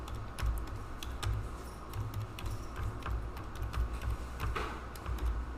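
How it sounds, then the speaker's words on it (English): Computer keyboard being typed on to enter a search phrase, a steady run of light key clicks with irregular rhythm continuing throughout, close and fairly quiet over a low background hum. "so I will just type in financial technology"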